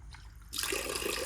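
A sudden rush of rainwater starts, pouring or splashing steadily after a quiet moment, close and fairly loud.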